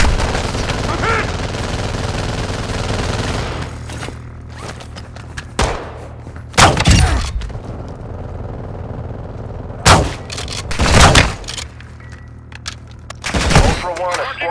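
Automatic gunfire in Call of Duty Modern Warfare II: a dense, continuous rattle of shots opens the clip, then sharp separate bursts ring out near and loud amid a low rumbling backdrop, with voices talking during the firefight.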